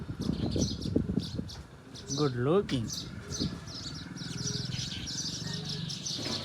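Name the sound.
pigeons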